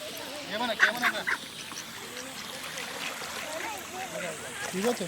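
Ducks quack in scattered nasal calls at a temple near water, mixed with soft trickling. The calls are fairly faint and sit under nearby voices talking.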